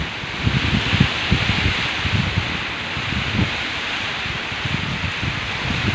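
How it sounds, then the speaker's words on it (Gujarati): Strong gusting wind with pelting unseasonal rain in the hot season, a dense steady roar with rustling bursts and low rumbling buffets against the microphone, loud and continuous with no voices. "ભર ઉનાળે જોરદાર પવનના સુસવાડા સાથે વરસાદની એન્ટ્રી."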